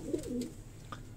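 Quiet, nearby coo from a breeding pigeon at night, one low warbling phrase followed by faint background noise.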